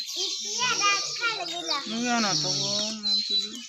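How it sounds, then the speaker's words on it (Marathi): Sparrows chirp in a steady high twitter around leafy branches, partly buried under close, ongoing conversation between people. "बघा बघा चिमण्या चिव चिव चिव"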